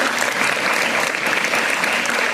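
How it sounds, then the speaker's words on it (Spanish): An audience claps in dense, steady applause throughout, loud and close without pauses, after a cantata tribute to Víctor Jara. "otro aplauso porque fue maravilloso"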